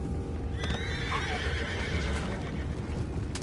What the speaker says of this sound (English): You mind the horses?